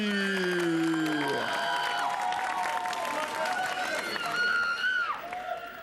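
A studio audience on a television show claps and cheers in a dense, steady wash. Bright musical tones and a voice run over it before the noise eases near the end.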